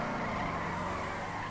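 A car drifts in GTA Online with a tire skid: a brief sustained squeal over engine noise, faint and steady throughout.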